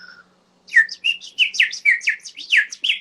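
A Ukrainian clay bird whistle partly filled with water warbles in a rapid run of bubbling, trilling chirps, close and fairly loud, sounding much like songbird calls, after a short faint tone at the start.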